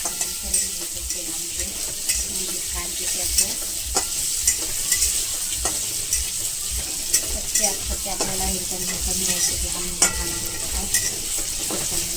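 Paneer cubes frying in hot oil, a steady dense sizzle with scattered pops and occasional utensil clinks running throughout.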